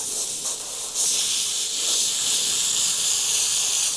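Airbrush spraying paint onto artwork in a continuous close hiss of compressed air for about four seconds, steady with a slight surge near the one-second mark, no voices.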